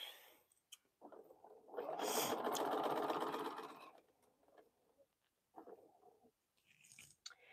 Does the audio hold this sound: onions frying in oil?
no